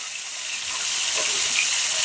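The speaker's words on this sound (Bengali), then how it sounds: "একটু বেশি ভালো করে ভেজে নেব কড়া করে" Fish sizzles in hot oil, a bright, close crackling hiss that holds steady and grows slightly louder.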